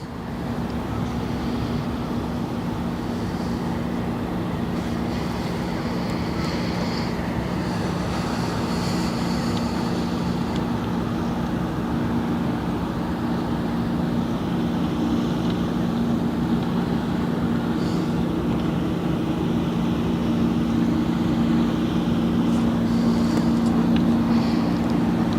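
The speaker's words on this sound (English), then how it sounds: "There's also a few ships coming out of the sluice now." Ships leaving a sluice on the Westerschelde in the Netherlands produce a steady, low engine drone with a constant hum. It carries on for the whole stretch under light wind noise, with no voices.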